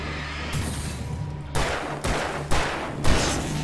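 Gunfire from the video game Alan Wake on PS5: four loud, evenly spaced shots about half a second apart, each a sharp broadband blast with a short decaying tail over a low background hum.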